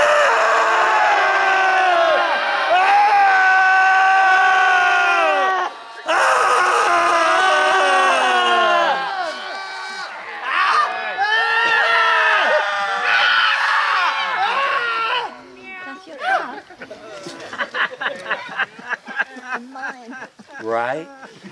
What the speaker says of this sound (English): You ever been that miserable that you scream from the very core of your misery?